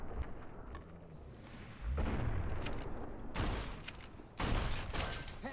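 Gunfire in Fallout New Vegas Honest Hearts video game: a few separated heavy shots or bursts, fairly loud, over a quiet background with little talk.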